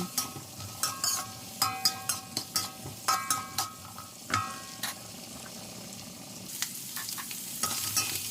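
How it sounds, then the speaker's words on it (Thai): Vegetarian water mimosa stir-fried with pounded red chili in a pan, a steady close sizzle broken by a run of sharp rhythmic scrapes and clinks of a utensil stirring against metal, with no voices. "เพิ่มความจัดจ้านตำพริกจินดาแดงใส่ลงไปด้วย ผัดทุกอย่างให้เข้ากัน"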